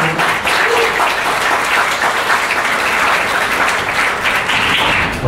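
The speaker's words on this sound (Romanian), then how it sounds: "Ca să încurajăm, să vă aplaudați." An audience claps steadily at a talk on the aesthetics of relationships, a dense, loud, even round of applause filling the whole stretch without letup.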